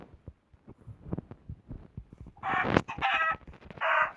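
Minecraft chicken sounds: soft rhythmic clucking pulses, then a few loud harsh squawks near the end, with no voices.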